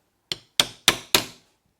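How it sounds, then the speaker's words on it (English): Four sharp metallic taps of a hammer on a centre punch marking drill holes for fitting a BMW Vario case back rest, evenly spaced and close, each ringing briefly before fading, with silence between. "I'm just going to centre punch those, just to make sure I get the drill in the right spot"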